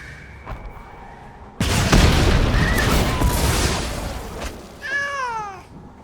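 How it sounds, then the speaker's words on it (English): A cat yowls angrily after a loud, sudden rumbling burst, its drawn-out meows rising and falling near the end, over a busy game soundtrack. "cat sounds so angry."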